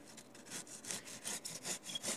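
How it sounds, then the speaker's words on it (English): A clay supercar model cut with a regular cross-cut wood saw: steady, rhythmic back-and-forth rasping strokes, close and fairly quiet, about five strokes per second. "with a regular cross-cut wood saw"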